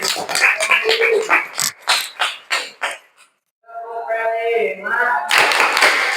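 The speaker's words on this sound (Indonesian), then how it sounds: "Oke, tepuk tangan." Schoolchildren in a classroom clapping their hands, a series of sharp rhythmic claps close by, then a short pause and children's voices, before clapping resumes at the end.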